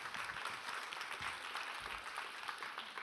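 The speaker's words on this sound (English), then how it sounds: "We can clap for that" Steady, dense audience applause at a foundation's health announcement event, heard at a moderate distance as a continuous wash of many hands clapping with no break.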